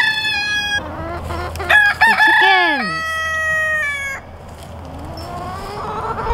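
A rooster crows loudly nearby, with chickens clucking and squawking around it, then quieter background clucks.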